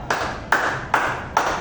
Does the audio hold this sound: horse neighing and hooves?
no